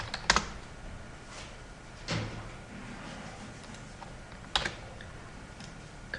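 Keys on a computer keyboard tap quietly in a sparse, uneven pattern, with a few sharper clicks over a faint room hush and no voices.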